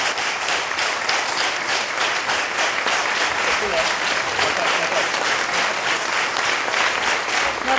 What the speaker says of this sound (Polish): Wielkie brawa dla pana Marka.